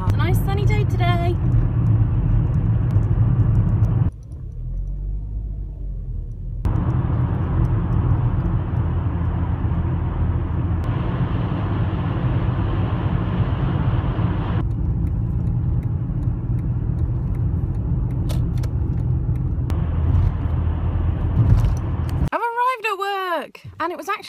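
Steady road rumble from a car cruising along a dual carriageway on a sunny day with little traffic, continuous and close inside the cabin, with a brief muffled dip partway through.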